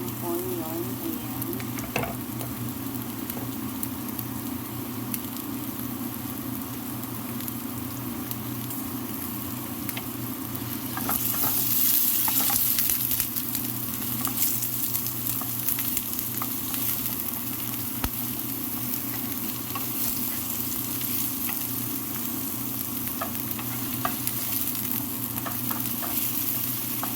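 Onion sautéing in olive oil in a home kitchen, a steady low sizzle with occasional stirring scrapes that swells louder for a few seconds partway through, then settles back to an even frying hiss.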